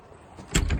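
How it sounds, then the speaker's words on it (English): The cab door of a Yanmar ViO35 mini excavator swings and clicks into its latch with a couple of quick, close metallic knocks after a brief quiet moment. "The door, standard Mini X door, latches open if you like."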